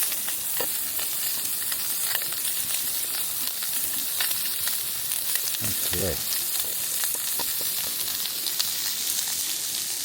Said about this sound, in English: We'll let that sizzle for a little while longer.